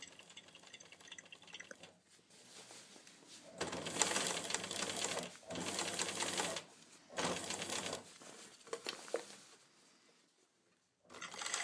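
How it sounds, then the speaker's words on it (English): Bursts of a sewing machine stitching along a skirt waistband, several runs of fast mechanical whirring separated by short pauses, close and alone with no voices. "Sew the whole length of the waistband."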